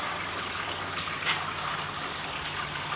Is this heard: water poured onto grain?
yes